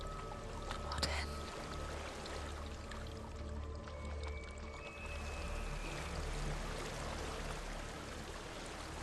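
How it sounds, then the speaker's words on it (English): A video game waterfall pours as a steady, rushing wash of water, constant and moderately loud across the whole stretch, with faint tonal game sounds drifting over it. "There's a waterfall."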